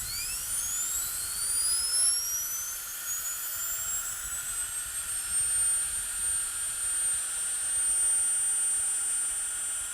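A pneumatic air tool fed at about 50 psi from a compressor's built-in regulator spins up with a thin, high-pitched whine that climbs and then holds steady, moderately loud and alone.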